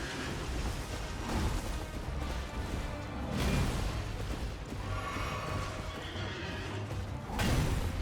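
A horse in Elden Ring neighs and whinnies over clattering hooves and game combat sounds, with several loud crashes and impacts spread through the scene.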